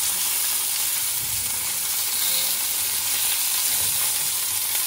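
Chicken stir-frying with bok choy in a pan gives a steady, dense, close sizzle that holds even and unbroken throughout, with no voices.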